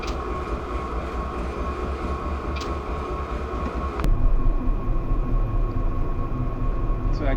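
A Norfolk Southern diesel locomotive in Train Simulator throttles up, its steady engine drone and rail rumble growing louder and heavier midway through, with a faint tonal whine over the continuous sound.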